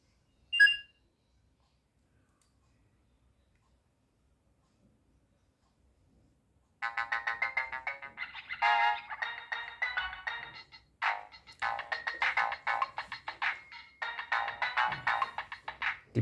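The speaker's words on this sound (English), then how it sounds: "Typical ringtones." Ringtones on a Nokia 3230 mobile phone play one after another: a short beep, several seconds of silence, then a run of bright electronic melodies with brief gaps between them, with no voices.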